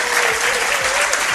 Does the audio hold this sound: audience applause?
yes